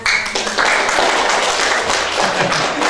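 Several people clapping their hands together in a room, a dense continuous patter of applause that runs steadily throughout.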